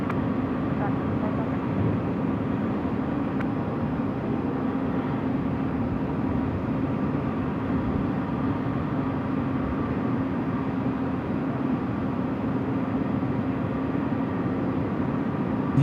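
A jet airliner takes off from runway 16 right at Sydney Airport at night, heard as a steady, loud broadband engine roar that holds evenly for the whole stretch with a constant low drone.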